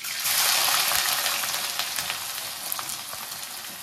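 Onions hit hot oil in a pan for a mutton curry and sizzle hard at first, then the frying settles to a steady crackle with a few small pops, close and alone.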